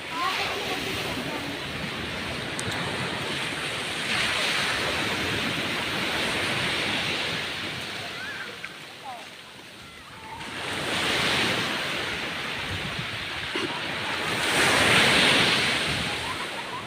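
Ocean waves wash onto the rocky shore at Dikapanikian, Dingalan, Aurora, a broad, hissing roar that swells and recedes in slow surges every few seconds, close and fairly loud with steady wind-like noise between breakers.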